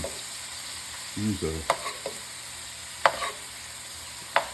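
Shrimp sizzling in a pan as they are turned, a steady fry hiss broken by sharp clicks and clinks of a utensil against the pan, with a brief voice murmuring.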